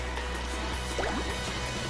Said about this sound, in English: Rolling up whirlpools.